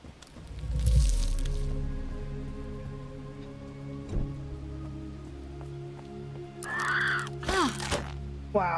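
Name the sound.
birds cawing in a video game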